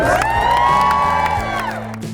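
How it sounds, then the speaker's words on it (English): A large outdoor crowd at the Chincoteague pony swim in Virginia cheers and whoops for the ponies, a loud continuous roar of voices throughout. "let's cheer for the ponies!"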